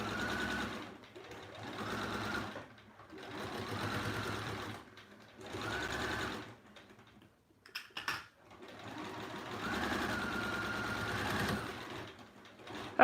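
A sewing machine stitching zipper pouches runs in several steady bursts of a few seconds each, with short pauses between them and a brief clatter partway through, close and fairly loud, with no talking.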